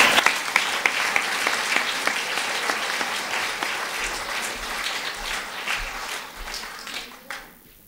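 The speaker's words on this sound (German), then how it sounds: "Applaus, Applaus." Applause from an audience at a Yoga Vidya satsang, many hands clapping in a dense, steady burst that thins out and fades toward the end.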